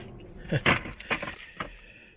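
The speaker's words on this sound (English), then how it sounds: "Okay, here's the key." A car key jangles on its ring in a few quick metallic clinks and rattles, close up and moderately quiet, with no talking.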